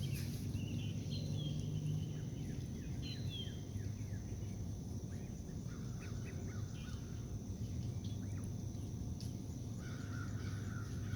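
A goose calls outdoors with a few honking cries over a steady bed of insect and cricket hum and other distant bird chatter, fairly faint throughout.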